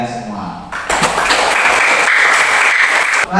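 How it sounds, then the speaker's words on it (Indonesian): A class of students bursts into applause in a school classroom, dense clapping that starts after a moment of talk and carries on steadily for about two and a half seconds before stopping abruptly. "Tepuk tangan buat kalian semua."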